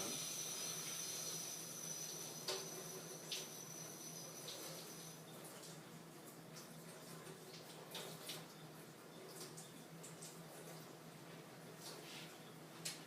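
Cold tap water running steadily as a beef tenderloin is rinsed under it, a soft continuous hiss with a few faint splashes and clinks, fairly quiet and with no talking.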